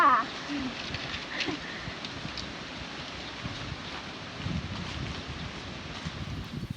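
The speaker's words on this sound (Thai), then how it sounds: "นี่ต้องวันนี้ลมแรงมากนะคะ" Strong wind blows across an outdoor fishing spot, a constant rough rumble with heavy microphone buffeting at the start and gusts swelling again later.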